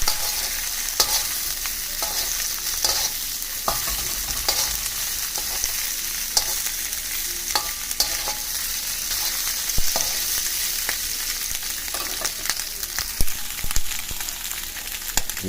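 Chop suey with imitation crab meat frying in a pan, a dense steady sizzle peppered with sharp pops and crackles, close and continuous with no talking.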